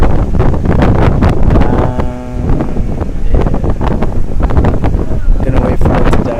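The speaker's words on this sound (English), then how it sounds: "So it's super windy out here." Strong wind buffets the microphone outdoors, a loud continuous roar with gusty surges throughout.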